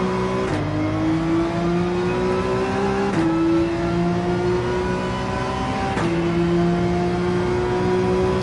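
Race cars in Gran Turismo 7 roar loudly and steadily, the engine pitch climbing in long rising sweeps broken by three sharp gear shifts, with no voices.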